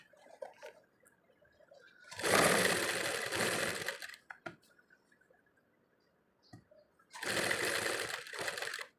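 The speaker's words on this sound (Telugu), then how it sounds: "ఈ కట్ వర్క్ పక్క నుంచి వరుస రౌండ్ ఒక స్టిచ్ వేసేసేయండి రౌండ్గా" Sewing machine stitching around cut work with the presser foot removed, running in two loud, steady bursts separated by a quiet pause with small clicks.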